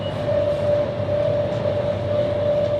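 Airport express train in Delhi, India: a steady, loud rumbling ride with a constant tonal hum and whirring motor noise, continuous and close from inside the carriage, with no talking.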